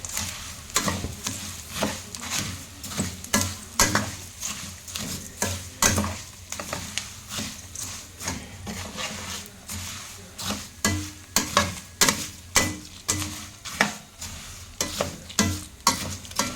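Poha (avalakki) being stirred in a hot frying pan for avalakki chow chow, with repeated scraping, clattering strokes of a spatula over a soft steady sizzle, close and fairly loud, no voices.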